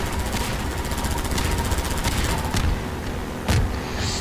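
Enemy gunfire in Half-Life 2 co-op, with rapid bursts of shots over a constant rumbling din and a few sharper cracks standing out near the end.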